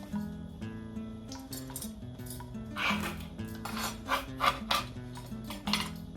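A knife slices through asparagus on a cutting board in a kitchen, giving a series of close, scraping cuts and light clinks at an uneven pace over faint steady background hum.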